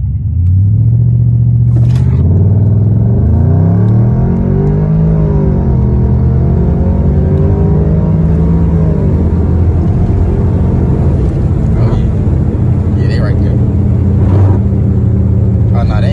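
A 2007 Lexus LS 460 rolls over highway rumble strips, a steady loud low rumbling drone with a rising and falling engine tone beneath it, while people talk inside the car.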